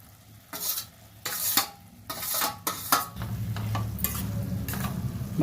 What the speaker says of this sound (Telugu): వేయించి పెట్టుకుని బెండకాయలు వేసేస్తున్నాను